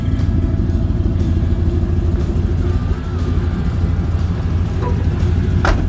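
A 1967 Chevrolet El Camino with a 400 small block V8 and Flowmaster 50 mufflers idles with a steady, mellow low rumble, close and continuous with no revving.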